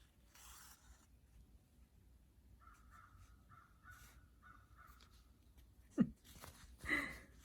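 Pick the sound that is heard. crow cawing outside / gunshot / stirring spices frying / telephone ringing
crow cawing outside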